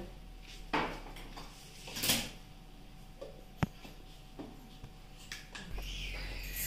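Peanut powder is stirred into hot water to make a paste, heard as quiet, scattered clinks and scrapes of a spoon against a bowl with a few sharper knocks between pauses.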